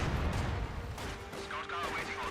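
A heavy mortar and small-arms fire sound in a Company of Heroes 2 battle, with dull booming impacts and scattered shots under steady talk.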